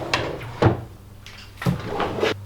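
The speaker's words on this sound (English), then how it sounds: "I have 2 drawers on the sides right here for whatever you want to store in." Wooden side drawers on a handmade TV stand cabinet slide open and shut, giving two close, solid knocking thumps about a second apart with light sliding scrape between.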